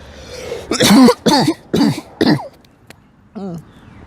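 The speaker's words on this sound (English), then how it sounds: "I really have a bad cough." A run of four loud, harsh coughs in quick succession, followed after a short pause by one more rough cough, close to the listener.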